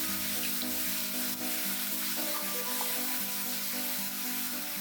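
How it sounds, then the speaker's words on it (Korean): A pork chop searing in a pan with star anise, cloves and cinnamon stick, giving a loud, constant sizzle and hiss close by over a steady background tone, with no voices. "충분히 색이 나오면 뒤집어 구워줍니다"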